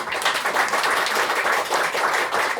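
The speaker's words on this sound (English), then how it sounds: "Let's give them a round of applause." Audience applause at a writers' words-and-music event in Kyoto, a short burst of steady clapping from a modest crowd, continuous and fairly close.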